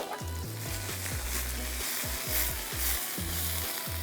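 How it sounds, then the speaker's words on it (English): Steady sizzling of brussels sprouts frying in a pan, a continuous crackly hiss with low, repeating knocking thuds beneath it, fairly close. "So it's kind of slowed down, there's not as much sizzle."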